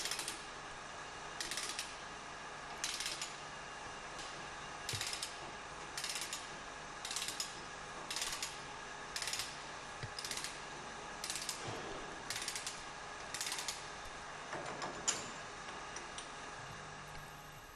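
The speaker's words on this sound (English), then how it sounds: "Screw together and extract the rubber bush" A disc tool and brass nut are screwed together by hand inside a truck brake caliper to pull out a rubber bush, giving a quiet, regular series of ratcheting clicks with short pauses between turns and no talking.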